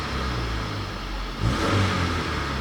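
A 1997 Honda Civic engine runs steadily and then revs up midway, a loud, close mid-pitched drone that swells with the throttle.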